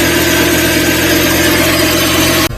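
Supercharged mini-truck engine fitted with a draw-through carburetor runs loud and close, a steady dense roar with no breaks until it cuts off abruptly at the very end.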